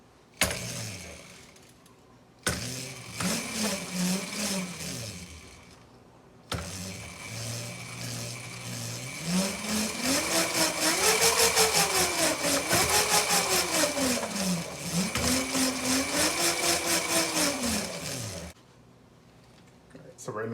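A Razor MX125 scooter with a swapped-in 40V 350W electric motor powered by two Dewalt 20V batteries spins up with a rising and falling whine that surges in repeated waves, close and steady, with brief pauses between runs.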